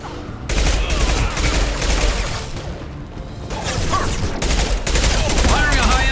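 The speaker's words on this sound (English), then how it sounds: "Firing a high-impact shot!" Heavy gunfire bursts from Mass Effect 2 combat, loud sharp impacts repeating in clusters over about six seconds with crashing and whooshing effects, occasional speech mixed in.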